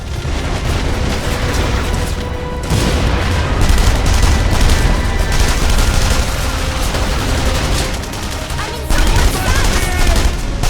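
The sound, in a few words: gunfire in The Saboteur video game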